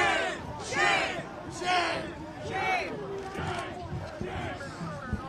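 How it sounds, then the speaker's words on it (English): A protest crowd in Minneapolis chants "shame" at local and state police, with rhythmic, repeated shouted chants from many voices, fairly close and loud, pulsing about once a second. "Hear those chants of shame from the crowd, again directed at the local and state police"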